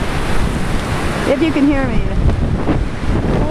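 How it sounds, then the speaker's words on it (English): Hurricane Sandy wind and surf pounding a beach, with a steady roaring wash of waves and gusting wind buffeting the microphone, while a voice talks briefly over the noise. "the wind is just like blowing the water right down the beach, and the waves are just rolling in"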